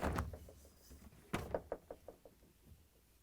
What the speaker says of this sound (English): To get to the part, we need to open both doors.